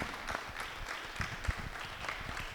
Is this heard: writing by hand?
no